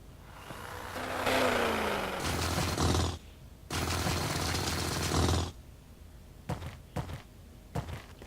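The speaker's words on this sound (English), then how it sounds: "I don't like that sound when you're drilling," A ship's drill in the game Space Engineers grinds and roars in two long, loud bursts separated by a brief pause, followed by quieter thuds and clicks, with no voices.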